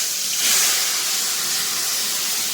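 Ground spice paste from a mixer jar dropped into a hot pan in a home kitchen, giving a loud, steady, close hissing sizzle that fades slightly over a couple of seconds.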